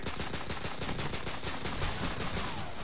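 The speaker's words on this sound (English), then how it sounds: "They're shooting at me." Rapid video game gunfire rattles continuously in dense, evenly spaced bursts, loud and close, with no voices over it.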